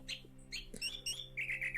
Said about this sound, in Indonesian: Yang keempat adalah anis kembang.